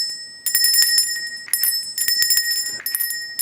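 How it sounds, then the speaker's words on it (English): A bell rings loud and close during a mentalist's stage act, sounding in several quick bursts of bright, shimmering jingling with short gaps between them. "you clearly hear the bell ring before the participant ever begins to"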